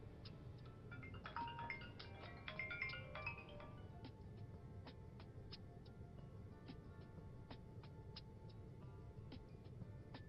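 A telephone rings with an incoming call in a room, its repeating electronic ringtone pulses recurring steadily at a moderate level over a constant low background hum, with a brief busier melodic passage near the start.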